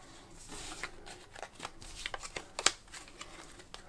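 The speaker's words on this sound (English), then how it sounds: "I'm just sliding the bottom card out." Playing cards slide and snap softly as the bottom card is dealt out from under a held deck, close, quiet rustles with a few sharper flicks.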